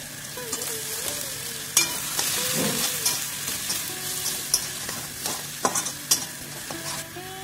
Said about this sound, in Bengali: টমেটো, রসুন, লঙ্কা আর পেঁয়াজ দিয়ে যে আমরা পেস্টটা বানিয়ে রেখেছিলাম সেটা আমরা দিয়ে দিচ্ছি এর মধ্যে